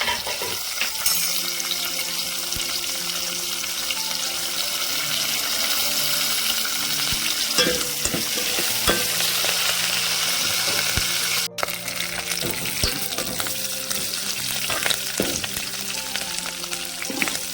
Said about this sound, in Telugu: టమాటా రసంలో ఉల్లిగడ్డలు తాలింపులు వేసుకోవాలండి